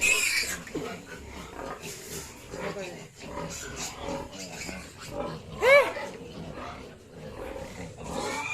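Pigs grunt and squeal in a farm piggery, a restless mix of low grunts with a louder squeal partway through, while people talk nearby.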